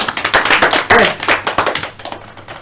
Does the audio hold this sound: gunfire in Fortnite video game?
no